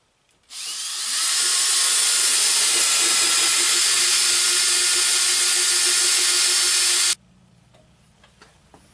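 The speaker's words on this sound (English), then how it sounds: "I'm going to use a paddle bit on a drill, and this one's about 5/8 of an inch." A 5/8-inch paddle bit on a power drill bores a hole through a porch wall, giving a loud, steady whirring grind for about six and a half seconds that cuts off abruptly.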